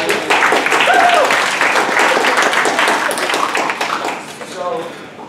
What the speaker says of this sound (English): So I'll give him a round of applause.